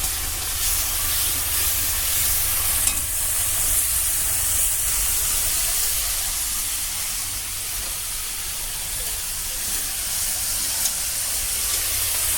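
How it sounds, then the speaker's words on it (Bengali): Potatoes frying in hot oil hiss and sizzle in a dense, even wash of sound that stays loud and steady throughout. "আলুটা ভাজা হয়ে গেছে"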